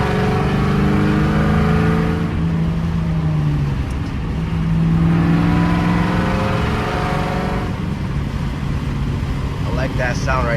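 A straight-piped New Edge Ford Mustang GT is driven hard, its loud, raspy exhaust rising and falling through repeated revs and gear pulls, heard continuously and up close from start to finish.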